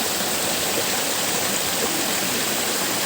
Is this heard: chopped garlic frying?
no